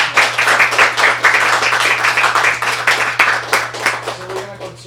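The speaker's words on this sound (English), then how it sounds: "applause." An audience at a film festival Q&A session in New York applauds, giving a loud, steady wash of many hands clapping that lasts throughout, with a faint voice near the end.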